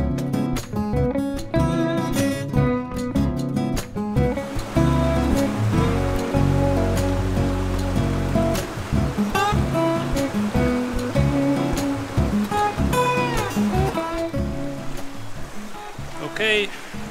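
Jack's River Falls, a river waterfall in a wild camping spot, roars as a steady broadband rush of falling water, loud and continuous throughout, with voices talking over it and some tonal music or other sounds layered in.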